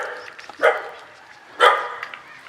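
A loyal pet dog barks twice, about a second apart, each bark sharp and fairly close, with quiet room noise between and no talk.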